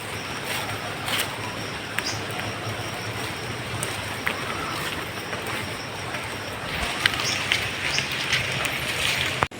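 Steady rain patters on surfaces outdoors near a farm where water buffalo graze, a dense continuous hiss with occasional sharper drips, moderately close and alone without talk.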